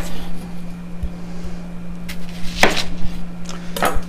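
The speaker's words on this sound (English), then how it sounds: "I'm just going to cut off the ends" A knife trims the ends off an onion on a cutting board, giving a couple of sharp, close chops over a steady low hum, with no talking.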